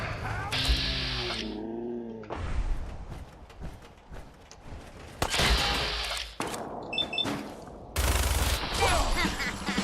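Heavy weapon fire in Fallout 4, dense bursts of loud rapid shots and blasts in several separate volleys, with game effects between them and no talk.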